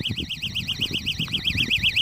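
A Chinese clip-on LED fishing bite alarm sounds a loud, continuous warbling electronic tone that rises and falls rapidly and steadily for the whole stretch, over a low rumbling background.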